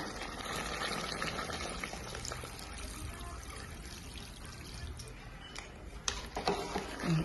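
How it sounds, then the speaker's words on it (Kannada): Water pours steadily into a vessel with a continuous rushing trickle, close and fairly quiet, followed by a few light knocks at the end. "ಈಗ ನಮ್ಗೆ ನೀರು ಎಷ್ಟು ಬೇಕಷ್ಟು ನೋಡಿ ಹಾಕೋತೀನಿ ರೀ ನಾನು"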